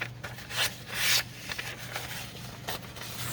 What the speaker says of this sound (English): I'm going to trim off this top part first